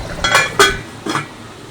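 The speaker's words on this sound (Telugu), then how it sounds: "ఇప్పుడు మూత పెట్టేసుకుందాం." Metal lid set onto a pot of tamarind-leaf mutton curry, two or three close clinking knocks in quick succession, ringing briefly and then fading.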